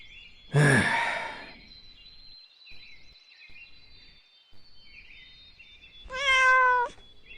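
A cat from an inn gives two loud, close meows several seconds apart over a faint steady high tone, with no talking in between.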